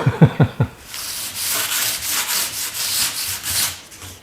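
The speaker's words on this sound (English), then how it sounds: "Just lightly sanding this here with some 400 paper I found here" A few soft knocks, then steady back-and-forth strokes of 400-grit sandpaper dry sanding a car body surface, close and evenly paced.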